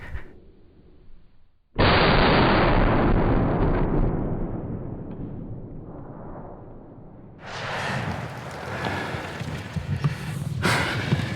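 A shotgun blast during a late-season Pennsylvania turkey hunt, a single loud close boom that rings out and decays, followed by rustling and breathing in the woods.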